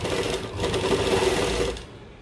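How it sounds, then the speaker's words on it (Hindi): A sewing machine stitches a loop onto a kurta, doubling the seam, with a close, steady whirring run lasting under two seconds before it stops. "लूप के ऊपर मैं थोड़ी सी सिलाई डबल कर रही हूँ ताकि वो निकले ना बिल्कुल भी।"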